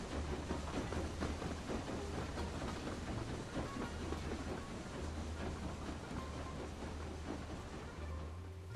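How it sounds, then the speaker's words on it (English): A train rolls past in the video game Book of Travels, giving a steady rattling rumble with a rhythmic clatter. It stays faint and continuous, with no voices over it. "Here comes the train."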